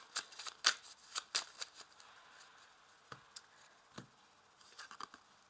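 Béline oracle cards being handled and laid out on a table: soft quick riffles, taps and slides in irregular bursts, faint and close, with no talking.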